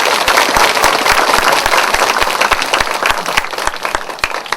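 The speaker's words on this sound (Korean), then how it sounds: "우리 교수님을 큰 박수로 모실 수 있도록 하겠습니다." An indoor lecture audience claps to welcome a visiting professor, dense sustained applause from a crowd, loud and close, tapering slightly toward the end.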